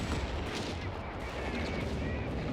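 Mortar fire in a Company of Heroes 3 battle on the L'Aquila map: a dense, continuous roar of explosions and gunfire, loud throughout, with a voice speaking underneath.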